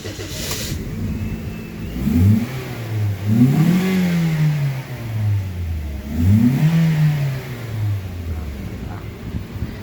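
A motorcycle engine restarted after a fuse change, on a bike that has trouble revving, sounds up close and loud: a steady idle broken by three rising revs that swell and then fall back, with no talking.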